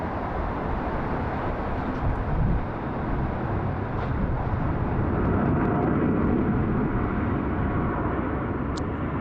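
A China Southern airliner on the runway at Sydney Airport in high wind, a steady, loud broadband jet roar with a deep rumble that holds evenly throughout.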